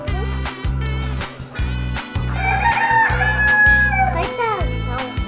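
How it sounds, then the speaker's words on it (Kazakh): Black chickens at a lakeside park resort cluck in steady repeated bursts close by, and a rooster's crow rises midway through; a voice speaks briefly in the background. "Әше бір қара тауықтар."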